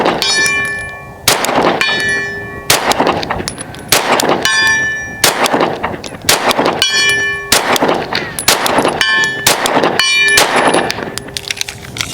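Sig P320 in an SMC Bravo chassis firing at a 9-inch steel target at 100, about nine sharp, loud reports, each followed by a bright ringing clang from the distant steel, spaced roughly a second apart outdoors.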